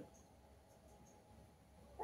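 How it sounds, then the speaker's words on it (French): A dog barks once, briefly and close, at the very end of an otherwise quiet stretch of faint room noise. "j'ai le chien qui aboie"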